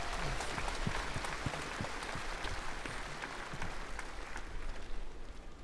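A crowd gathered for an independence anniversary ceremony applauds the new Governor-General of Solomon Islands, a continuous, fairly distant wash of clapping.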